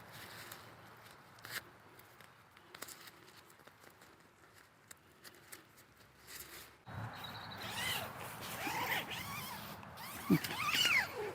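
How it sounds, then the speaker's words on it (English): A zipper on a Forclaz MT 900 tarp tent is pulled one-handed, giving a quiet scratchy rasp. Faint rustling comes first, then louder zipping and fabric handling toward the end. "And do the zip easily with one hand."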